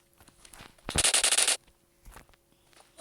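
PUBG Mobile gunfire: a rapid automatic burst of about eight close, loud shots in quick succession, with a few fainter isolated shots before and after.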